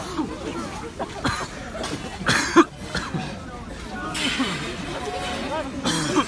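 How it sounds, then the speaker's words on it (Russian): People at a street rally in Cherkasy cough from gas in scattered harsh coughs and throat clearing amid crowd chatter and background noise, several voices at varying distances. "Бачите, всі кашляють від газу."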